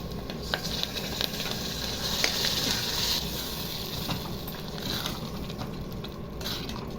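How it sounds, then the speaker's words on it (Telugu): Cooked lentils going into a hot tempering of curry leaves for a raw mango dal, producing a loud, continuous sizzle and frying crackle close by, with some stirring and no speech. "ఇప్పుడు తాలింపులో పప్పు వేస్తున్నాం."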